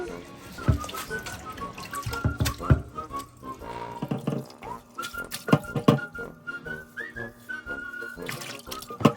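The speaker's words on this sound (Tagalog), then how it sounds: "Wash the chicken very well." Chicken being washed under a running kitchen tap, water splashing and gurgling into a sink with shifting tones and clatters as the pieces are handled, fairly close.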